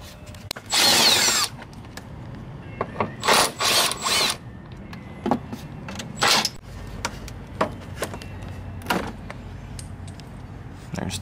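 Power tool bursts removing fender bolts on a Jeep JKU: several short drill or impact-driver runs separated by pauses and clicks of a ratchet, close and fairly loud.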